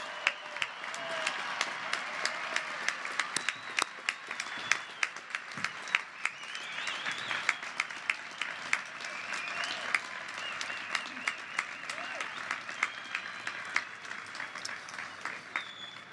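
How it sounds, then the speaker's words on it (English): A university commencement audience applauds graduates, a long stretch of scattered crowd clapping with individual claps standing out, moderately distant and uneven in intensity. "How about another big round of applause for all of our outstanding graduates?"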